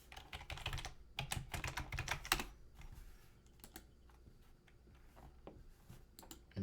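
Someone types a password on a computer keyboard, producing quiet clusters of quick keystrokes followed by sparser, scattered taps nearby.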